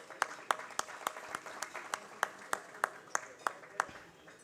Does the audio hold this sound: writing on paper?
no